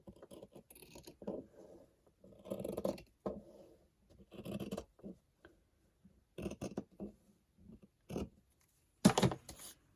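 Scissors snip through fabric in short bursts of crisp cutting and rustling, with pauses between the cuts at close range and no talking.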